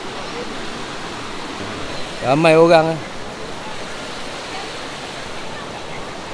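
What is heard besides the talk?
waterfall at Sungai Chiling fish sanctuary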